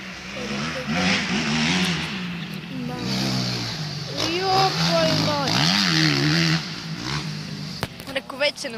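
A car laps a race track with its engine revving and shifting continuously, rising and falling in pitch at close range. People talk over the engine noise throughout.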